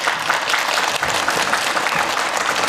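Audience applause at a Kyrgyz TV talent show, a dense steady wash of clapping hands throughout, loud and continuous.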